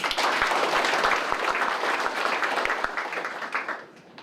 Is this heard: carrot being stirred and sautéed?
no